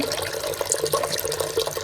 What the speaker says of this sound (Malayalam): നമ്മള് ഇതിലേക്ക് വെള്ളം പാരാണ്